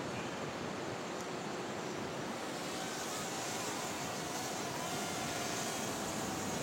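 Ocean surf breaks on the shore at Sawang Sikabau beach in Pasaman Barat, whose reef flat stretches wide, giving a steady, dense roar of washing waves with no pause and no voices.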